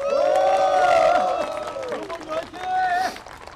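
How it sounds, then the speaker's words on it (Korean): Audience at a Seoul mayoral candidacy announcement gives loud, sustained applause and cheering, a dense roar of clapping that swells at first, eases slightly, then rises again. "다시 한번 큰 박수 부탁드리겠습니다"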